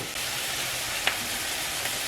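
Oil heating up in a frying pan before eggs go in, giving a steady close sizzle and crackle with a faint tap partway through and no talking.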